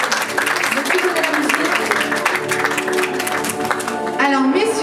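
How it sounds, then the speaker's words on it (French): Sustained applause from an audience at a film festival award ceremony for a best actor prize, a dense, steady wash of clapping with music and a host's voice underneath. "On applaudit Floriane avec le meilleur acteur."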